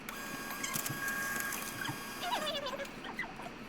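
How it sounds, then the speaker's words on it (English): A laser printer prints a page with a steady mechanical whir, soft rollers and small squeaky feed sounds, heard close and fairly quiet with no talking. "I press print it out how I normally would."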